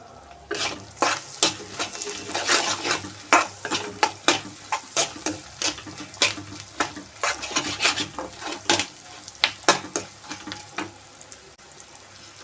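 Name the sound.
frying tempering of mustard seeds and dried red chillies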